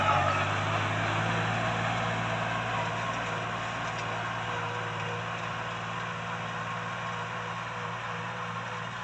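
A tractor engine idles close by with a low, even rumble and constant hum, holding smooth and unchanging throughout.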